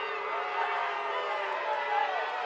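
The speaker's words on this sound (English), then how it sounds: "that's why you can hear the booing from the fans down below" Stadium crowd at a Charleston Battery versus Indy Eleven soccer match booing a replay: a sustained, droning mass of voices from the stands below, steady and moderately loud, spread wide with no distinct individual calls.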